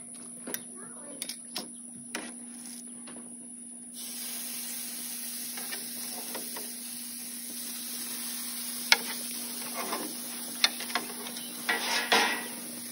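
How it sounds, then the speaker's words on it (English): Steady sizzle of steak frying with a constant hiss, punctuated by occasional clicks and taps of utensils against a pan. "You hear that Florida sizzle?"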